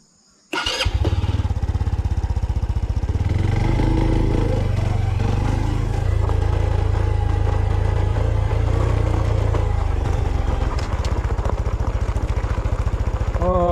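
A Honda Super Cub or Hunter Cub motorcycle engine starts abruptly on a forest mountain trail and revs steadily up close, rising and settling as it pulls away, with a loud continuous rumble throughout.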